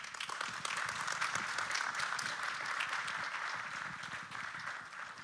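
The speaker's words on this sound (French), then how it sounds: "je vais vous demander des applaudissements pour nos intervenants" An audience at an energy transition summit applauds its speakers, a steady, moderately distant patter of many hands that holds evenly throughout, with no voices over it.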